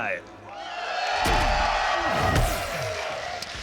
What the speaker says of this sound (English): Sounds to me like the crowd favors SonicFox.